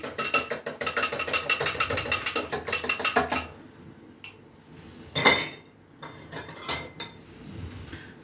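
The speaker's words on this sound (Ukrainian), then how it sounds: "Чуть я собі його вимішую, просто щоб розчинилася сіль." Utensil stirring a salty soy sauce marinade in a bowl, a rapid run of rhythmic clinks against the bowl followed by scattered slower scrapes and taps.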